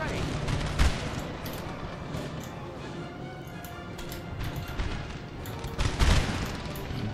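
Musket volley fire in Napoleon: Total War during the Egyptian campaign, distant ragged crackling shots with a couple of heavier thumps standing out, under a constant battlefield rumble.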